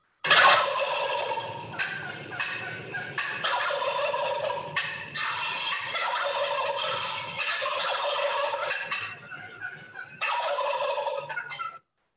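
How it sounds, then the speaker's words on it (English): Male wild turkeys gobble in a series of loud, rattling calls, several overlapping bursts repeating over about twelve seconds with brief gaps, close and alone without talk. "Here's their gobble."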